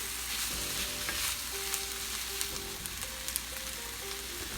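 Garlic sizzles in a Lodge cast iron skillet while shakshuka is being cooked, giving a steady, close, even frying hiss with faint tonal music running beneath it.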